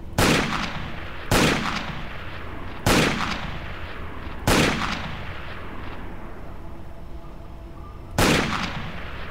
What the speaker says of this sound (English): Oh, this gun kicks to the side a lot. Makes an impressive noise